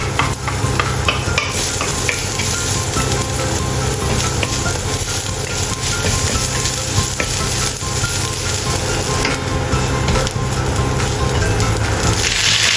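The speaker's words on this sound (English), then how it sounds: "Stir-fry chopped ginger until fragrant." Chopped ginger stir-fried in a hot wok for an amaranth soup gives a steady, loud sizzle with constant scraping and stirring all the way through, and no one speaks.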